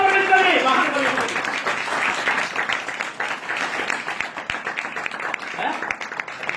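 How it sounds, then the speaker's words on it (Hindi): A church congregation at Bethel Prayer House in Ludhiana claps loudly and continuously in applause. Voices call out over the dense, fairly close clapping at the start, and the clapping carries on at a steady level through to the end. "ताली बजा दो।"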